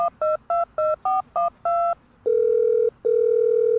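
A telephone number is keyed in as a run of seven short, evenly spaced DTMF tones, followed by two long, steady ringback tones separated by a brief gap, loud and clear with no talking.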